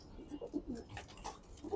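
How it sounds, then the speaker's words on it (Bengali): Pigeons kept for flying, including hens, coo softly in a loft, with several low, rounded calls spread unevenly over a couple of seconds at moderate distance. "আমি এখন যে কবুতর গুলো আপনাদের দেখাইতেছি এগুলো সম্পূর্ণ উড়ানোর কবুতর"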